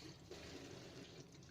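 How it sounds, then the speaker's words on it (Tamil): Half a litre of water pours into a kadai in a steady, faint, continuous splash and trickle, heard alone with no talking. "இதில் நம்ம ஒரு 1/2 லிட்டர் அளவுக்கு நம்ம தண்ணி வந்து ஆட் பண்ணிக்கிறோம்"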